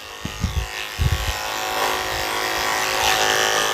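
Electric clippers buzz steadily at close range while shaving a Bichon-Poodle mix puppy's fur, the hum broken at first by a few soft bumps and handling thumps before running continuously.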